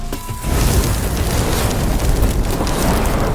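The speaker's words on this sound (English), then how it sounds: "The explosion blasted a huge hole in the bunker." Oxygen tanks and gasoline packed under sandbags detonate against a bunker, releasing a loud, sustained roaring blast that rumbles on with broadband noise after a short quiet lead-in.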